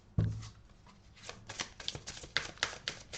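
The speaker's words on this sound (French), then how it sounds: "Je vais aller recouvrir les cartes." Tarot cards handled and laid over on a table, a sharp initial slap followed by a run of quick papery flicks and slides, close and moderately loud with no voices.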